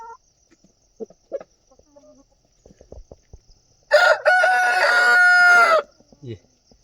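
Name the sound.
chickens clucking in a poultry enclosure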